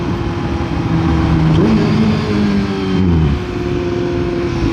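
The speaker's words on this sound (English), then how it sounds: "Tunnel downshift, here it comes." Motorcycle downshifting inside a tunnel, loud and close, engine note rising and stepping through gear changes with blips, echoing off the walls.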